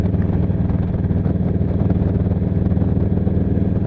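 A 1999 Harley-Davidson Road King's engine thrums steadily while riding, a loud, close, low rumble with no talking over it.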